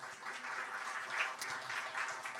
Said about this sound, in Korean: 우리 먼저 수미 형제 박수 하겠습니다